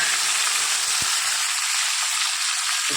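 Tomatoes and green chilies fry in hot oil in a pan for a potato curry, giving a loud, continuous bright sizzle with one soft knock partway through and no voices.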